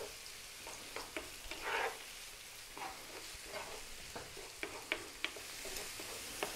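Garlic and onions fry over medium heat in a pan, a soft steady sizzle broken by occasional clicks and scrapes of stirring, close and quiet with no talking.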